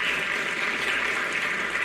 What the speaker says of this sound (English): We give these people a round of applause when I say their name.